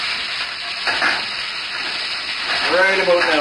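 Sliced onions hit a hot pan of beef stir-fry, a steady close sizzle and hiss that rises near the end as they land, with a voice talking over it.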